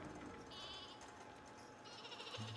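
Sheep in the video game Flockers bleat in a few short, close cries over a dense game soundtrack, with no talk over them.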